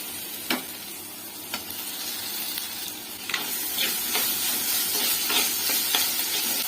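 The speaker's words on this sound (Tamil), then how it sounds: "வெங்காயம் வதங்கிருச்சு இப்போ தக்காளி சேர்த்துக்கலாம்" Onion and tomato sautéing in a pan for a Tamil green manathakkali vathal kuzhambu, a steady close sizzle with a few sharp scraping stir clicks scattered through it, no talking.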